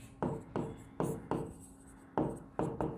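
A differentiation equation is written on a board, producing a series of quick scratchy strokes. About seven short bursts come in an uneven rhythm, close and fairly clear.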